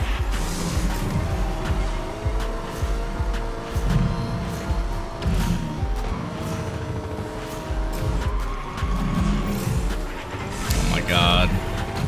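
A car drifting in the Rocket Racing video game, with loud sustained engine and tire-skid noise and repeated sweeping engine pitch over about twelve seconds, while a voice talks over it.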